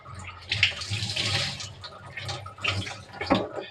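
Tap water runs into a kitchen sink while a cooking pot is washed, a steady splashing wash with brief louder bursts and clatters close by.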